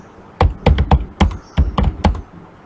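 Several crisp keystrokes on a computer keyboard, tapped in an irregular burst with a firmer press of the enter key, close and clear with no talk over them.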